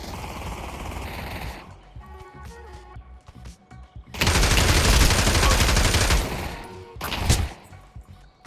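Bursts of rapid automatic gunfire in Counter-Strike 2 played in VR, loud and close, with a long sustained volley in the middle and a shorter burst near the end; quieter stretches between.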